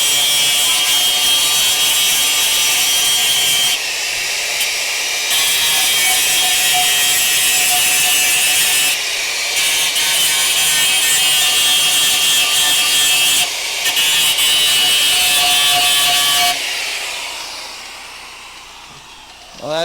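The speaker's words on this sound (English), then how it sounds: "I'll just hit it with the grinding wheel" A grinding wheel bites into metal on a Crew Cab Charger during restoration, a loud, steady abrasive hiss and whine that runs nearly twenty seconds with brief dips in pressure before trailing off.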